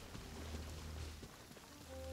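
Rain falls in the Genshin Impact video game world, a soft, continuous patter of drops at low volume with a faint tonal hum running underneath.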